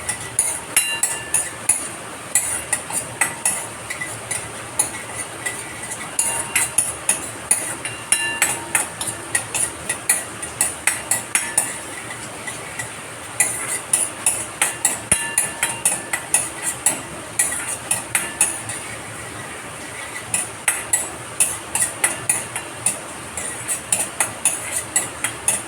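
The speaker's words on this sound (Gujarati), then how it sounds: "તેમાં હું પહેલાં સૌપ્રથમ બદામને સોતે કરી લઈશ." Almonds sautéing in hot ghee in a pan for a dry-fruit sweet, stirred with a utensil that clinks and scrapes in quick, steady bursts over a soft sizzle, close and continuous with no talking.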